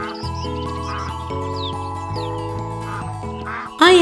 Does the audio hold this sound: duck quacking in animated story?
yes